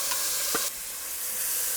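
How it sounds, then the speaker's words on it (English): Chopped onions, carrots and celery go into a hot pan for bolognese. A loud, close sizzle flares up as they land and is stirred, then settles into a steady frying hiss. "then we'll add our onions, carrots, and celery. Add the vegetables."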